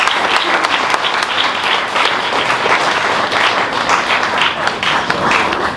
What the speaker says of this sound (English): Let's continue the round of applause.